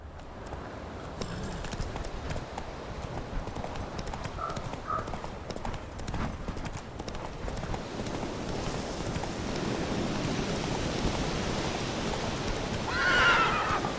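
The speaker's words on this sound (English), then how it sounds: "Whoa there, Roach." A horse in The Witcher 3 video game clip-clops along at a steady pace with soft rain in the background, then lets out a sharp whinny near the end.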